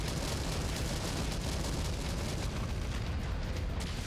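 A destroyed mech explodes in Mechwarrior 5, a sustained roaring blast of dense rumbling noise, loud and close, holding steady for several seconds with no talking.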